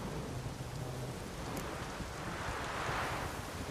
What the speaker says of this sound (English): I've not managed a storm that fine for ages. Did you see the drops? The size of eggs.